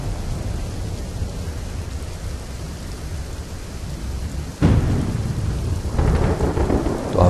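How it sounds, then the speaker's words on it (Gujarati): Heavy rain pours down over Ahmedabad, a dense, steady hiss that suddenly grows louder twice with deep thunder-like rumbles near the end, with no one speaking. "અમદાવાદના સોલા, રાણીપ, અખબારનગર અને એસજી હાઈવે જેવા વિસ્તારોમાં વરસાદ વરસી રહ્યો છે"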